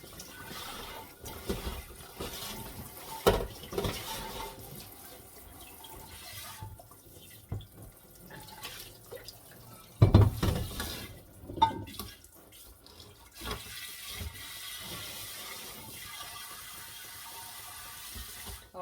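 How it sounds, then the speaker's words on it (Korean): Tap water runs steadily into a sink while a clay water jar is scrubbed clean, with a continuous splashing flow, a louder knock partway through, and no talking. "수도 꼭지로도 물이 좀 나오도록 수도 꼭지를 올려서"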